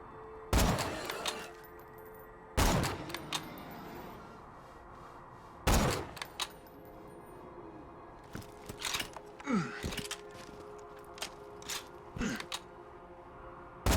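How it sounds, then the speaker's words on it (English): Sniper rifle shots in Borderlands 2, three loud, sharp cracks spaced a few seconds apart, each with a short echoing tail, followed by scattered softer impacts and clatter. "As you can tell, I like sniper rifles."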